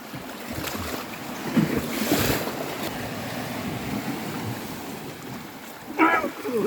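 Ocean waves wash along a seaside cliff trail at low tide, a broad hissing surge with wind buffeting the microphone and a couple of louder swells. Faint voices are heard briefly.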